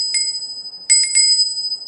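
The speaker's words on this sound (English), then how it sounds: "that's why we were ringing a bell" A bell gives a single bright ring, then a quick burst of three rings close together, each with a clear metallic tone and short sustain, heard alone against near silence.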